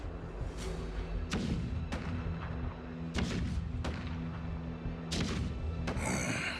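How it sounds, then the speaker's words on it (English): Heavy, booming thuds of cannon fire in the video game Honkai Star Rail land at irregular intervals over a low droning rumble, with a few sharp cracks among them. "Do you hear that? The rumble of the cannons."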